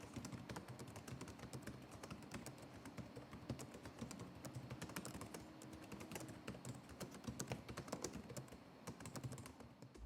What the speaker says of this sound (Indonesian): berikut ini merupakan contoh suara feedback dari keyboard Asus ROG Strix Scar 15